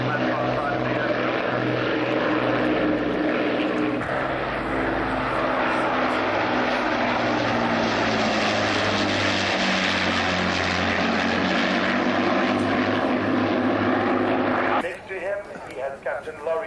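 A DC-4 flies at the Fairford airshow, its piston propeller engines giving a loud, steady droning roar that holds for about fifteen seconds before fading as a commentator's voice takes over.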